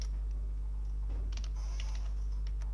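Quiet, sparse clicks of a computer keyboard as someone types code, a few soft keystrokes clustered in the middle over a steady low hum, with no talking.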